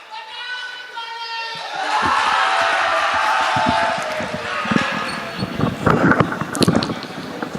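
Audience at an All India Mushaira poetry gathering in Phoolpur shouting slogans, a loud swell of massed voices and cheering building after a sung line, followed by scattered claps and shouts.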